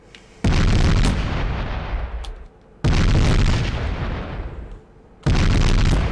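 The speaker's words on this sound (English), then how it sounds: "Fire! Main battle cannons." Three massive main battle cannon blasts in Space Engineers boom one after another, each a loud explosive crack followed by a long rumbling decay, in a game-like battle soundscape.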